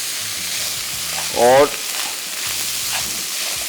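Cooked rice fries lightly in a pan for fried rice, giving a steady close sizzle and hiss. A voice speaks briefly partway through.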